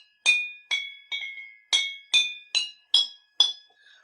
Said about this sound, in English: you're actually listening to the vibrations of the glass